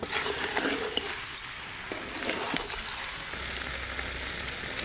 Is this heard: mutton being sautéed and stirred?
yes